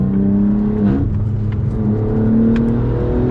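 A BMW M4 G82 tuned past 600 hp accelerating hard on a Nürburgring lap, its engine note loud and close with a steady rising harmonic drone and a brief dip near the middle as the revs drop and climb again.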